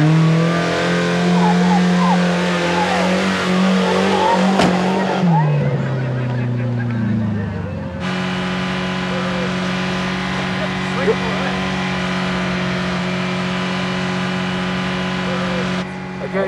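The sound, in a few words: car racing around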